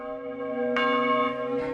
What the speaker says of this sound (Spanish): las campanas de la iglesia empezaron a tocar espontáneamente